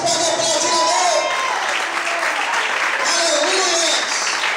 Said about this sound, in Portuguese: Será que você pode aplaudir a Deus?